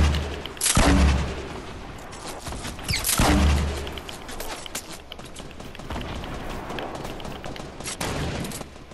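A grenade launcher fires in the Fortnite video game, with two heavy booming blasts near the start and middle, followed by a steady stream of crackling gunfire and game effects at close range.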